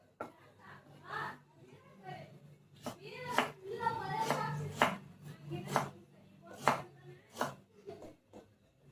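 Onion being finely chopped with a knife on a board, a run of sharp close knocks in uneven bursts, with a voice talking softly underneath at times.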